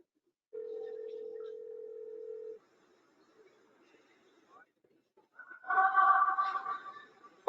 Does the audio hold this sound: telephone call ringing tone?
yes